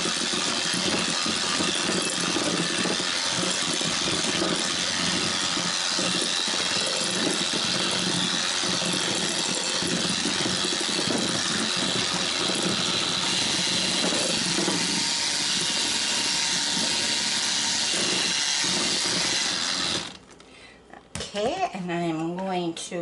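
A mixing bowl rattling as cheesecake batter is beaten with an electric mixer, a loud continuous whirring and rattle that stops abruptly near the end, followed by a voice speaking.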